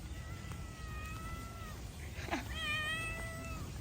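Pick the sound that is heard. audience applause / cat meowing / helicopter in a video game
cat meowing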